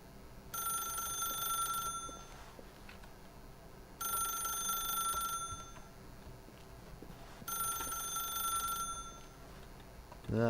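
Telephone ringing in The Stanley Parable video game: three long electronic ring bursts in a steady pattern, with pauses between them, loud and clear over a quiet background.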